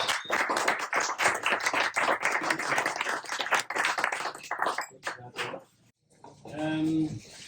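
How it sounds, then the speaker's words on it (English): A big round of audience applause fills a tech impact-investing meetup, dense broadband clapping that runs for several seconds, briefly drops out, then returns with a voice speaking over it. "please a big round of applause"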